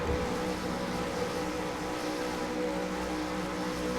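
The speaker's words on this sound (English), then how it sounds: "So just sitting on the grid here as the revs build." V8 Supercars sitting on the starting grid at Lime Rock, their engines making a steady, moderately distant droning hum as the revs build.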